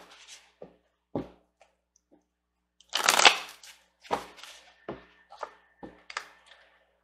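Tarot cards are shuffled and handled up close in a quiet room, with soft riffles and taps in bursts and one louder flurry near the middle.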